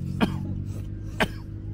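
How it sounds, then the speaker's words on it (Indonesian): Two short, sharp coughs about a second apart, close and fairly soft, over a quiet background hum. "Gue batuk."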